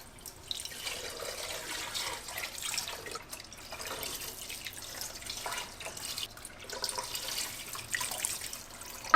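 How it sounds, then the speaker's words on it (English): Water pours steadily over a whole chicken in a pot, a continuous splashing, trickling stream close by that rises and falls slightly in intensity. "Over the chicken, we're going to pour 8 cups of water."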